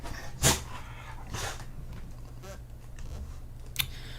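A dog outdoors at a street protest lets out a few short barks and yelps, spaced across the moment over a steady background rumble.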